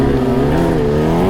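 A Kawasaki H2R motorcycle engine drones loud and close on a motocross track, holding a sustained, throttled roar with slight shifts in pitch and no pauses.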